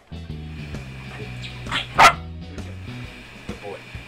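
A dog gives a few short barks and yips during a ball-catching game indoors, one sharp loud bark near the middle, with a person speaking over a low background hum.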